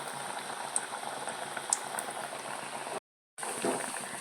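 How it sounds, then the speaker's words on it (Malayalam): Parippu vada, hand-shaped lentil fritters, bubbling and sizzling in hot oil: a steady, close crackle and seethe with small pops, broken by a brief gap of silence before the frying resumes. "ഈ ഒരു ഷേപ്പിലാക്കിയെടുത്ത ശേഷം എണ്ണയിലേക്ക് ഇട്ട് കൊടുക്കാം"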